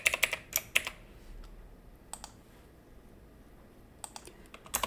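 Computer keys clatter quietly in short bursts of clicks as a user ID and password are typed, with quiet pauses between the bursts.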